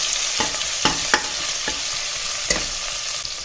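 Onions fry in a pan for a sprouted horse gram sambar, a constant close sizzle with a handful of crisp spatula taps and scrapes spaced through it, no talking.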